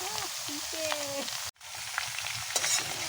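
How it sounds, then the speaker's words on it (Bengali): Papaya frying with browned onions in mustard oil for a homestyle Bengali fish curry, a steady close sizzle with stirring scrapes, faint voices underneath and a brief dropout midway. "এখানে সরিষার তেল দিয়ে পেঁয়াজ কুচিয়ে লাল লাল হয়ে গেলে মা এবার পেঁপেগুলো দিয়ে দেবে"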